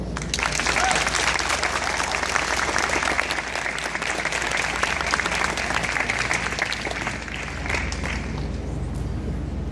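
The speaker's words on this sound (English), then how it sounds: "I think I need an applause for them." An audience at a graduation ceremony applauds the graduates with dense, sustained clapping that stays steady for nearly ten seconds and fills the room, with no speech over it.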